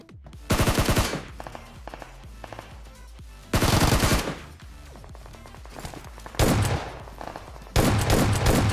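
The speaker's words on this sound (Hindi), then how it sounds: "और फिर साइड में भैया फायरिंग होने लगती है" Automatic gunfire in the mobile battle royale game PUBG Mobile comes in four loud, separate bursts of rapid shots, with quieter game noise in the gaps between them.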